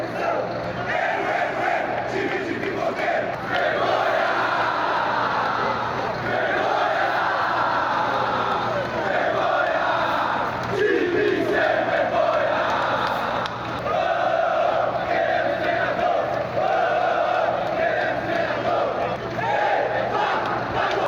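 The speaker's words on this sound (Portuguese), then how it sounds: "Teve protesto da torcida do São Paulo depois do jogo." São Paulo football supporters protest after a match, a dense crowd chanting and shouting together in a loud, steady roar that carries on without a break.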